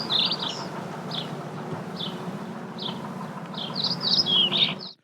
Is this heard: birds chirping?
yes